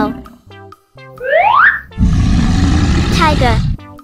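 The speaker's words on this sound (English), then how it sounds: "Tiger." A tiger roars in the Paint Animals video game: after rising springy game chimes, a loud, sustained, rough roar fills nearly two seconds, then quick bright chime sweeps and a short tail of music end it.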